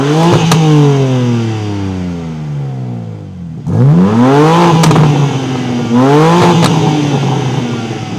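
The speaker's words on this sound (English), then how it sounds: "I'll put an exhaust clip here so you guys can take a listen to that." Revving from a 2023 BMW M3 50 Jahre Edition with a titanium exhaust comes through as three sharp throttle blips, each rising and falling, with crackles between them. The sound is loud and close.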